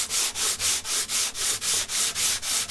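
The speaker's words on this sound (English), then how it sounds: "the sandpaper actually is abrading or applying pressure to the veneer that's proud of the surface of that facet of the plywood" Sandpaper scrubbed by hand over proud veneer on a plywood facet, about eleven quick, even back-and-forth strokes of close, hissing friction in a steady rhythm.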